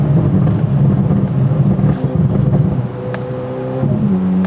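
Corvette C8 Z06 with a full titanium exhaust rumbling loud and close while the throttle is feathered, the engine note wavering and dropping with rough crackle before settling.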